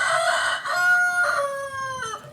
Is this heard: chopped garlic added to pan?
no